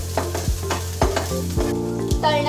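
Chopped onion sizzles in hot ghee, with steady frying hiss and a few sharp scraping stirs of a spoon against the pan at regular intervals, close and clear with no voices.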